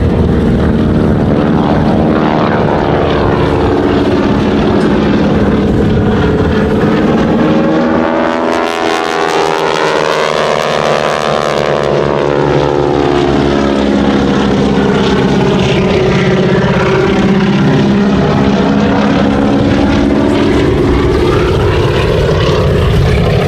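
A propeller biplane flies a wing-walking aerobatic display at the Duxford Air Festival 2018, its loud engine droning continuously with pitch sweeping up and down in Doppler shifts as it passes overhead and manoeuvres.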